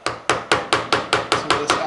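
Repeated sharp strikes of a number 7 carving gouge driven into wood to clear away excess, about nine even, close blows in a steady rhythm with no talking.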